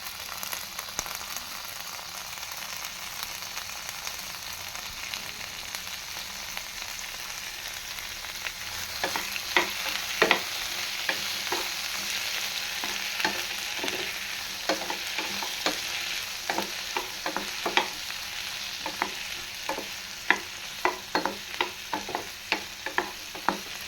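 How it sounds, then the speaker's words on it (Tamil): Tomatoes sauté in a pan for cauliflower gravy: a constant close sizzle, quiet at first, then many quick scraping and tapping clicks as the stirring picks up over the second half. "தக்காளி நல்லா வதங்கிடுச்சு."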